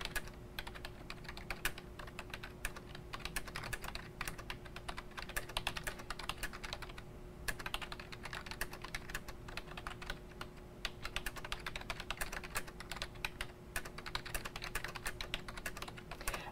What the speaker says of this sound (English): I'm just going to type